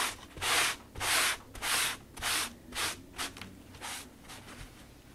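Art-C groove tool sanding a painted surface, a series of rhythmic scratchy strokes, about nine quick rubs that grow shorter and fainter, close and clear with no talking.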